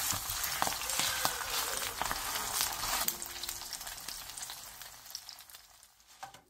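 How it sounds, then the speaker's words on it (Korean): Cabbage pancake batter pan-frying over medium-low heat, a steady dense sizzle and crackle close up, fading slightly toward the end with no talking. "바닥이 노릇노릇해지면 뒤집은 뒤 마저 노릇하게 붙여주세요."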